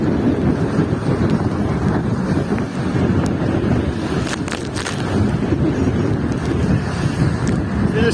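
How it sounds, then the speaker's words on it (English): Wind roars steadily over a sailboat at sea while the sail luffs and flaps, a loud continuous rush with water noise and a few sharper flutters mixed in. "Because you hear it's luffing and we're getting flapped."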